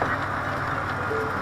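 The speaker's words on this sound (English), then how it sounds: "look out, duck parade." Ducks on a rural road in New Hampshire quack in a busy chorus, heard over a steady background hum as from inside a vehicle.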